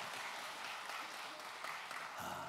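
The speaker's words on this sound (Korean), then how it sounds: "우리 큰 박수로 하나님 앞에 영광 돌리겠습니다." A church congregation at a Sunday worship service claps together, a faint, distant and steady patter of hands heard from afar.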